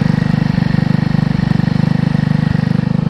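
A stunt scooter's small engine runs loud and close with a rough, pulsing rhythm, a rattling vibration from something loose on the machine throbbing through the steady drone.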